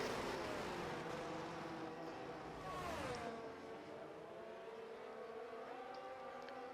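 Race cars in a racing video game at Monza run side by side into a braking zone, their engine notes dropping sharply as they downshift, then climbing again on the exit, steady and fairly loud with no voices.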